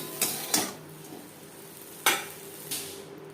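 Fried prawns scooped from a frying pan into a bowl with a utensil, giving four sharp metallic scrapes and clinks spaced unevenly over a few seconds, with faint sizzling in the background.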